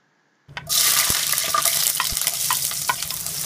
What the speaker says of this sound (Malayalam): ചൂടായ എണ്ണയിലോട്ട് നമുക്ക് ഒരു മീഡിയം സൈസ് സവാള ഒരു ടേബിൾ സ്പൂൺ വീതം ചോപ്പ് ചെയ്ത് വെച്ചിട്ടുള്ള ഇഞ്ചി വെളുത്തുള്ളി രണ്ട് പച്ചമുളക് ഇവ ചേർക്കാം